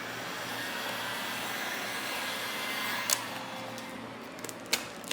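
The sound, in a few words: heat gun heating vinyl wrap on car trunk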